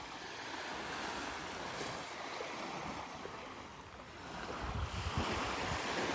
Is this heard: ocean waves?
yes